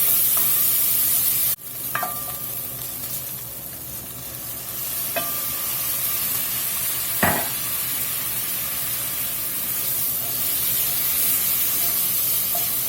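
Vegetables and onions steaming and sizzling in an old hot pot with a little water, a steady broad hiss throughout with a sharp pan clank near the start and a few spoon knocks.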